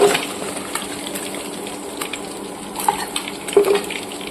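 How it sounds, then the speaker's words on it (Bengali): Pabda fish frying in oil makes a steady, moderate hiss and sizzle, with light clinks of a utensil against the pan and a few sharper pops near the end. "বাকি মাছগুলো আমি এইভাবে ভেজে নেব।"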